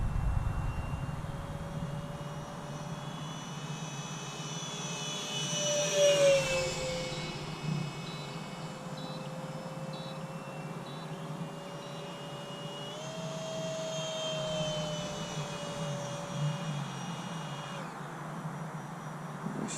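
A Freewing Stinger 64mm EDF RC jet on a 3S battery flies past with a steady whining ducted-fan hiss that swells and fades across the stretch, heard from a distance outdoors.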